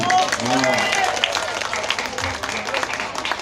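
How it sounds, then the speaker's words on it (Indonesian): Applause rises from the audience at the Dangdut Awards 2025, a steady patter of clapping from a crowd with a presenter speaking over it. "Tepuk tangan buat Niken Salindri."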